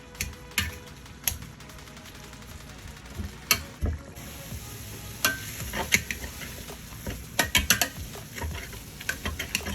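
Boiled potatoes are mashed with butter in a pot, giving a run of wet squelching, scraping strokes and sharp clacks of the utensil against the pan, irregular and close, with no talking.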